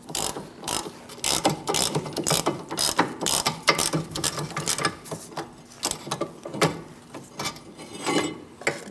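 Ratchet removing a rear brake caliper bracket bolt on a 2000-2006 Mini Cooper: repeated close clicking bursts of the pawl in uneven strokes, with short pauses between them.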